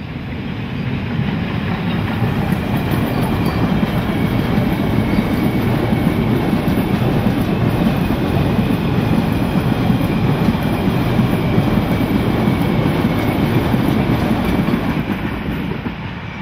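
A steam train rumbles along steadily and loudly beside a long avenue of old lime trees, a continuous rolling roar with faint rhythmic clatter of wheels on the track throughout.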